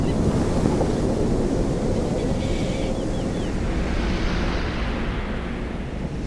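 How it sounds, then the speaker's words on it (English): Ocean surf pounding the shoreline on one side of the Gwadar peninsula, a steady loud roar of breaking waves mixed with wind buffeting, continuous throughout with no voices. "on one side of the peninsula, the surf pounded the shoreline"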